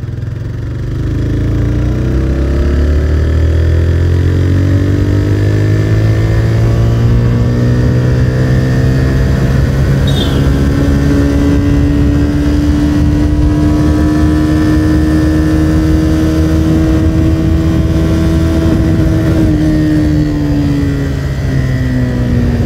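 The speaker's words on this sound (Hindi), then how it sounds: "पावर मोड में बिल्कुल सही से 9500 आरपीएम पे ही ये फिक्स्ड हो रहा है, लॉक हो जा रहा है" TVS Raider 125 motorcycle in power mode and third gear, its engine revving steadily up to the rev limiter near 9500 rpm and holding there, loud and close with rising harmonics throughout.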